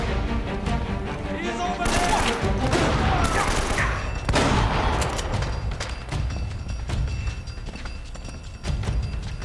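Loud bursts of gunfire with booming impacts fill a firefight in Uncharted: Drake's Fortune, shots cracking in clusters and then thinning to scattered single reports, with voices talking over them.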